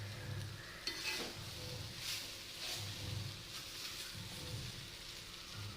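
Plantain and long beans thoran, a Kerala-style stir-fry, is stirred in a pan: a steady soft sizzle runs throughout with a few scraping stirs, fairly quiet and close, with no talking.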